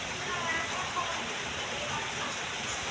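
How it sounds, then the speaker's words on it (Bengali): Steady rain falling outdoors, a dense even hiss of drops without a break, moderately loud throughout. "বৃষ্টির মধ্যে কি আর বলবো, বৃষ্টি তো পরিবেশ খারাপ হয়ে গেল।"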